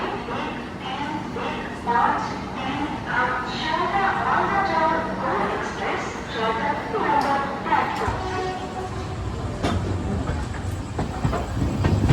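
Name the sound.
Darjeeling Mail train departing Sealdah station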